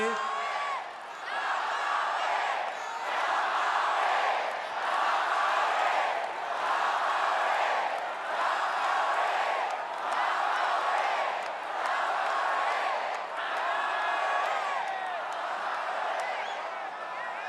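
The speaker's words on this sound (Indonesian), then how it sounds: "Saya ingin tepuk tangan sekali lagi untuk Bu Roidah." Crowd at a political rally convention applauding and cheering in rolling waves, with whoops and shouts rising over the steady clapping while an amplified voice speaks through the noise.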